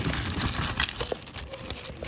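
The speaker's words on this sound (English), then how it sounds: "we have our set of keys." A set of keys jangles and clinks continuously at close range, metallic rattles scattered throughout with no one talking.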